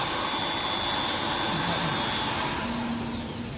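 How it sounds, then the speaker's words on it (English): A low-cost, microcontroller-driven three-axis CNC milling machine runs its motor to raise the Z axis, making a continuous loud whirring drone with faint tonal whines that rise and fall, and no talking. "Now Z axis will be upward. This motor is rotating."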